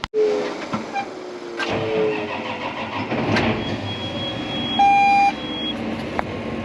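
A farm tractor's engine starts and then runs at a steady idle nearby, with a brief rising whine partway through and no talking.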